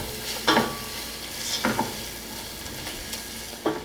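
Onion masala with Kashmiri chilli, coriander powder and garam masala sautéing in a pan for chicken biryani, with a low steady sizzle and three louder scrape-stirs, close and without talk.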